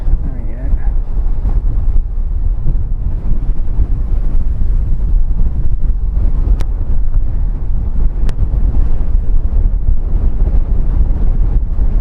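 Strong wind buffets the microphone at an airport, a loud, continuous rumbling roar that stays constant throughout with a couple of brief sharp clicks.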